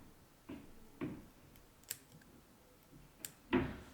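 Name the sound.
scissors cutting fly-tying fibers down the middle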